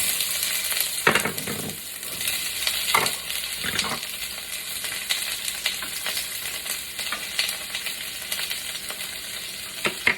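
Onions and peppers sizzle steadily in a hot pan for a Kung Pao chicken, a loud continuous frying hiss broken by a few brief stirring clatters, with no voices.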